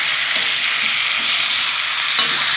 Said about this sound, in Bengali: আগে এগুলো আমি একটু ভাজা ভাজা করে নেবো।